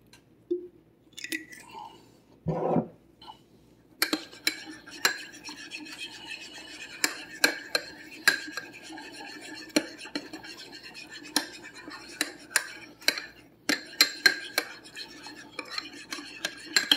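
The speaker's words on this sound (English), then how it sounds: "You just want to get a good mix on it" Yogurt being stirred into onion fritter batter in a bowl, giving a run of soft scraping, clinking utensil strokes at a steady close rhythm after a brief pause with a few quiet handling noises.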